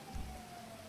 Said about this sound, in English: At least the rain's clearing up and it's coming daytime